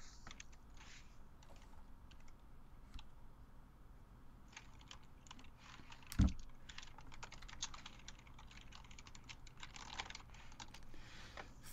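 Rapid, continuous typing on a computer keyboard during a tournament broadcast, a dense stream of fairly quiet key clicks running throughout with one sharp louder knock midway.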